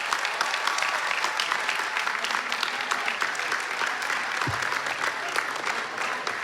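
A large audience at a Brown University ceremony applauds steadily, a dense continuous wash of clapping from many hands that holds evenly throughout with no voices over it.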